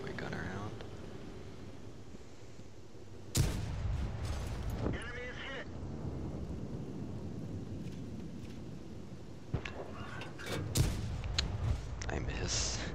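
Tank cannon shots in an armored-combat video game with a Hellcat tank destroyer: two sharp, loud blasts about three seconds in and near ten seconds, each with a brief rumbling tail, over steady engine rumble and ongoing talk.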